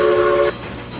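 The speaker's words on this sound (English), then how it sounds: "I have to say, that is so much nicer without all the frame drops to be able to control the whistle." A locomotive whistle in the Railroads Online train game sounds loud and steady for half a second, then cuts off into a lower rumbling engine background.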